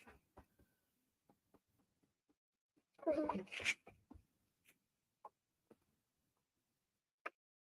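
A domestic cat lets out one loud, drawn-out meow in a short burst partway through, with faint clicks and small taps scattered before and after in an otherwise quiet room.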